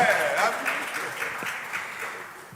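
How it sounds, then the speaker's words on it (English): Audience applause fills a hall at the official launch of a Nigerian gender programme, a steady, dense wash of clapping that holds fairly even and fades slightly toward the end. "keep clapping now, keep clapping"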